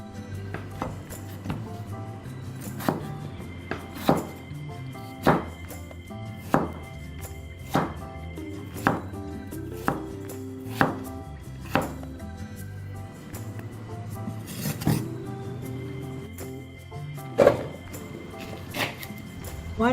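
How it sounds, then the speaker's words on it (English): A knife cutting winter melon into wedges on a board, with a regular series of dull thunks repeating roughly every second over a quiet kitchen background. "I'm cutting the winter melon into wedges just like the pumpkin."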